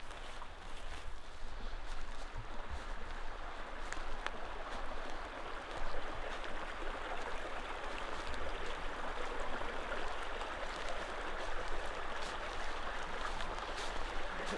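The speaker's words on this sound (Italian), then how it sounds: "Vedo che c'è un fiume." A clear river flows outdoors with a steady, even rush of water that holds at moderate loudness throughout, with no voices.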